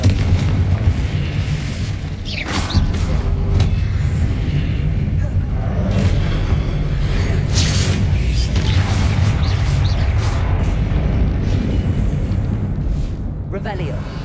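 Confringo blasting spells exploding in the Hogwarts Legacy video game, a string of booming blasts and sharp bursts over a rumbling low roar, with a voice talking over them.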